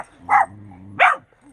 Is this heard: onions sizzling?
no